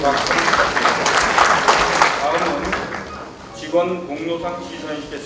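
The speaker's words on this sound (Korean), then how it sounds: "학술상을 수상하신 네 분께 다시 한번 박수입니다" Applause for award winners at a university anniversary ceremony, a dense broadband patter that swells loudly and then thins out toward the end, with a voice speaking over the tail.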